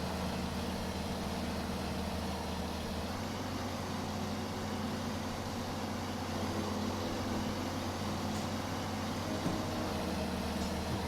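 A heavy truck engine in the SnowRunner video game drones at a low, steady idle, fairly quiet and unbroken throughout, with no talking.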